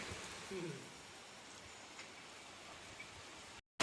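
Rain falls steadily over a village, a soft, even hiss with a few faint ticks of drops, ending in a brief silence.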